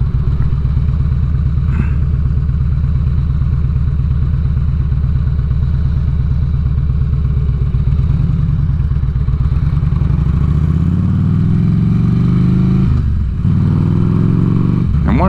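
A 2006 Ultra Classic motorcycle engine, about 1450cc, rumbles loud and steady while riding, with the pitch shifting as it revs up and eases off near the end.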